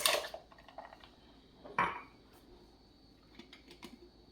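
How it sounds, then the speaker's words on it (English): Ice cubes dropped into a blender cup for a breakfast smoothie with spinach, a loud clattering tumble at the start, a second rattling drop partway through, then a few lighter clinks. "And then I put my ice."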